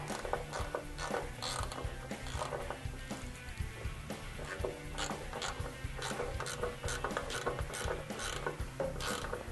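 Ratchet wrench snugging oil pan bolts on a small block Chevy engine, a steady run of close, rapid clicking strokes with short pauses between pulls.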